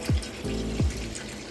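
Tap water runs into a pot of washed rice for Marathi rice khimti, heard as two short gushes of filling water, close and fairly loud, with no voices.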